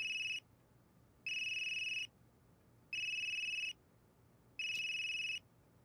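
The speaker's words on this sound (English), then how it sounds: "That geezer's phone is ringing." A mobile phone ringtone rings in a video game, four even electronic bursts of about a second each separated by short gaps, clear and close with no talk.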